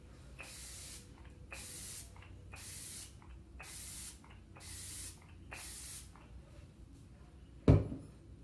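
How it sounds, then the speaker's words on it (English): Six short sprays of makeup setting spray in a steady rhythm, each a bright hiss of about half a second, followed by a single sharp knock near the end. "let's grab the setting spray, just right here, shake it up a bit"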